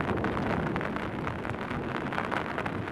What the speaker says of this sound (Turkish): Gerçekten çok etkili bir yağmur yağıyor.